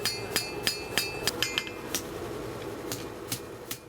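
Blacksmith hammering red-hot iron into a hoe at a forge, sharp ringing metal strikes landing in a steady working rhythm, close and clear with a couple of quicker doubled blows.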